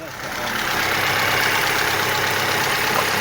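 A Vauxhall Astra mk5 with suspected head gasket and timing chain trouble, its engine idling close by with a steady, slightly rattly running note that builds over the first half second and then holds.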